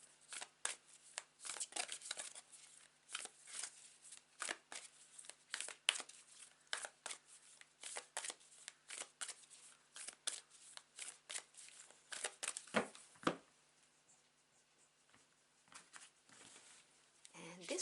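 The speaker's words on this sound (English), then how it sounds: "I'm going to grab these two cards and then one from here." Tarot cards being handled and shuffled close up, with a dense run of crisp flicks, slides and papery taps in irregular bursts, quiet and intimate, with soft talking in between.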